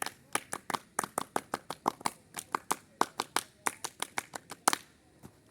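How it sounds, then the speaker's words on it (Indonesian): Scout-style rhythmic clapping (tepuk pramuka) by a small indoor group of trainers, crisp patterned claps repeated in two quick rounds, fairly close with no talking over it. "2 kali tepuk pramuka."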